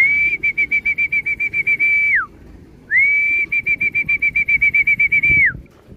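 Racing pigeons at a home loft, including young birds, with a bright steady whistling tone in two long sustained bursts, each pulsing rapidly, over faint low rustling and background noise.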